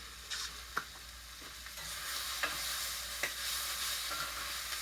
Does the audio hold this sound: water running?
no